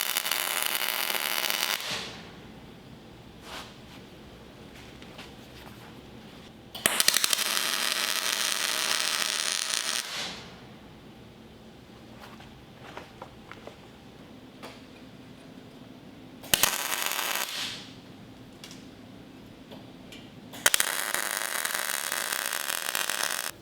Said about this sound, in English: then I got to welding on the new wheel bolts